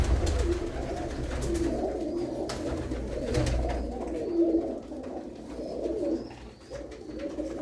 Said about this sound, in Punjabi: ਬਹੁਤ ਹੀ ਵਧੀਆ ਵਧੀਆ ਕਬੂਤਰ ਆ